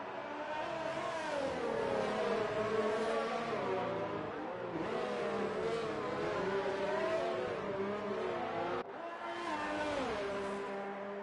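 F1 race cars, a Mercedes and a Ferrari, in a racing video game: high-pitched engines wail continuously, rising and falling through gear changes as they pass close, loud and unbroken with no talk.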